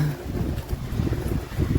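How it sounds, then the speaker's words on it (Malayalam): Gusty wind buffeting close to the microphone while cycling off-road in Germany, low rumbling bursts that rise and fall over a short moment. "അയ്യോ എന്ന് പറയുമ്പോൾ ലോക കാറ്റാണ്, ലോക കാറ്റ്."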